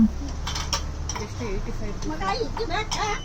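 Steel utensils clinking and clattering in a busy shop, light metallic chinks scattered through the scene against steady crowd noise and voices nearby.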